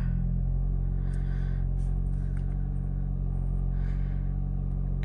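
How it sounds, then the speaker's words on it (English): A 2024 Toyota Camry LE AWD idles with a steady low engine rumble that holds throughout, with a few faint higher clicks and chimes on top and no voices. "We'll start up the vehicle."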